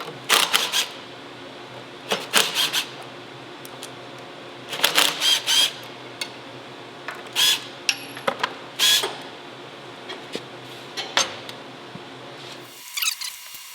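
A socket wrench with a 7/16 socket removes the valve bolts on a Split-fire log splitter. Its ratchet gives short, sharp bursts of clicking, separated by brief pauses, close by and loud.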